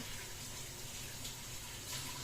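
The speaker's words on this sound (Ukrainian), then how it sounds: "Я мию чимось засобом, мию, витираю і різну." Dishes are washed with detergent under a running tap, giving a steady, soft, continuous rush of water throughout with no voices.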